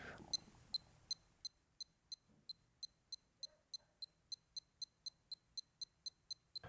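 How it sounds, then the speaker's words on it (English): A modified Casio A178W digital watch beeps in a steady series of about twenty short, sharp, evenly spaced electronic chirps, close and clear against an otherwise quiet background. "And it beeps."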